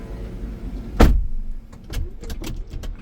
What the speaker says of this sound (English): You can also close the sliding doors